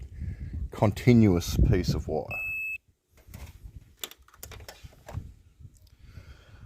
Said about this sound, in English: And as you hear, it makes a beep